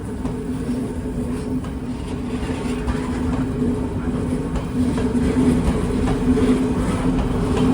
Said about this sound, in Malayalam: ഇതാ ഒരു ട്രെയിൻ കടന്നു വരികയാണ്